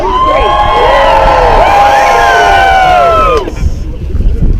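Large crowd cheering and whooping loudly at a Bernie Sanders march in Plattsburgh, New York, a dense, sustained roar of many voices that cuts off abruptly near the end, leaving quieter murmur.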